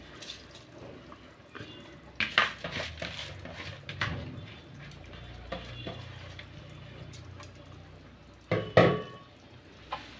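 Rice that has soaked for a quarter hour is stirred in a pot of salted water, giving wet scraping and sloshing strokes close by, with a louder splashy burst near the end.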